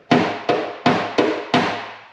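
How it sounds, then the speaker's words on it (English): Leather-tipped hammer tapping out a dent in a car's front fender during paintless dent removal, five light, evenly spaced taps, each a crisp knock with a short ringing decay, close and clear. "Not using much pressure, tapping force on the hammer."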